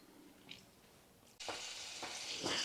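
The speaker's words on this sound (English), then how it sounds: "while our pork chops are frying" Pork chops hit a pan and a steady sizzle of frying starts abruptly, continuing loudly with soft scrapes and clatters nearby.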